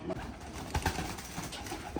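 Giribaz pigeons, some of them white, coo quietly at a pigeon farm. The low, murmuring coos are faint and sit under a steady background noise.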